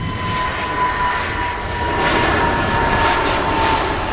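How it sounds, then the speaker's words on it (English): An EasyJet Airbus A320neo at Manchester Airport, its engines giving a steady broad roar at moderate distance, slowly swelling in the latter half, with no voices. "EasyJet A320 Neo."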